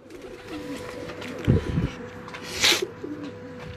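Pigeons coo on a rooftop loft in a few soft, low phrases, with a brighter call or flutter near the end and faint voices in the background.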